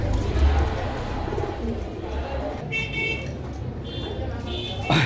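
Pigeons, including an Indian Makra Kaldom, coo softly in the background of a pigeon collection while people talk over them, with a faint high chirping call near the end.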